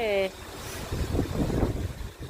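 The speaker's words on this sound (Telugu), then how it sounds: "చాలా ఎక్కువగా ఉంది గాలి అయితే." Strong wind gusting outdoors along a road during a power cut, trees and gates buffeted, a continuous low roaring rush with surging gusts after a brief tonal sound at the start.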